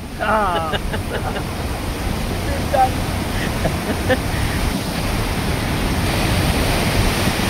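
Heavy monsoon rain during a flood on the Ghod river near a submerged cremation ground, a loud continuous roar of falling rain and rushing water with brief faint sounds over it.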